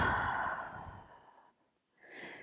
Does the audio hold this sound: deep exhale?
yes